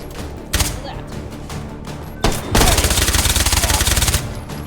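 Rapid SMG gunfire in the H3VR virtual reality shooter while a quad damage power-up is active: a short burst, then a longer sustained rattling volley, loud and close, with some background game sound around it.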